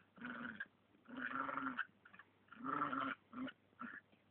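A dog, reluctant during a bath by a car, gives low, close grumbling growls in several bursts separated by short pauses, with no talk over it.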